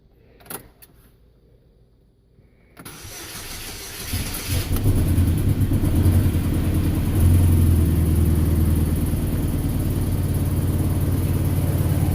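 A Chevrolet HHR engine running rough with a small exhaust leak: faint clicks and quiet, then the engine cranks and catches into a loud, uneven idle with a ragged rumble and puffing exhaust.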